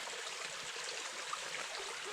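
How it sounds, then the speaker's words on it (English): Fresh stream water running over rocks at a small water source crossing a trail near Woody Gap on the Appalachian Trail, a steady broadband rush and trickle, fairly close and continuous with no voices. "Some fresh water running over the rocks"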